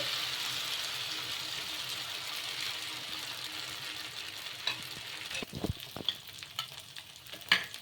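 Curd breakfast batter sizzles in a pan, a steady bright frying hiss with a few sharp clicks and pops near the end, close and moderately loud, with no talking.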